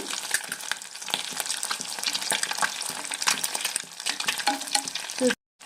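Eggs frying in a pan until golden on both sides, a dense crackling sizzle with scattered pops and spatters throughout, fairly close, cutting out briefly near the end before resuming, with no talking.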